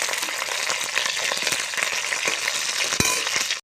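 Fish goes into a hot pan of oil, producing a dense, continuous close sizzle with crackling spatter and one metallic clink near the end, with no talking.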